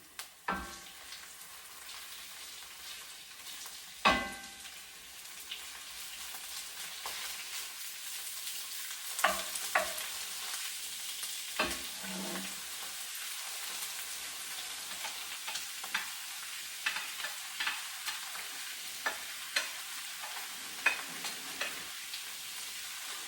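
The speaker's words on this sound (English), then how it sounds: "And now I'm going to drop in like my like a pickled cabbage" Pickled cabbage goes into a hot pan with pork ribs and fries with a steady broadband sizzle, broken by sharp utensil knocks and scraping clatter that recur throughout, close and fairly loud.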